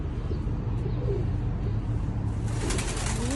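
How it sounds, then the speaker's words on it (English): Pigeons coo softly amid steady outdoor city market bustle, then a burst of flapping wings rises near the end as the birds take off. "Two birds flying away."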